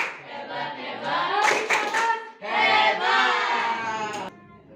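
A school class, with the teacher leading, does the 'tepuk hebat' clapping cheer: a burst of clapping along with voices chanting and cheering together in two long rounds, loud and close, ending abruptly.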